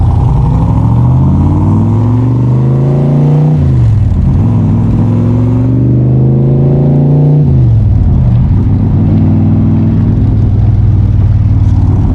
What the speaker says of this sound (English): we're going to be taking this Cobra out for a spin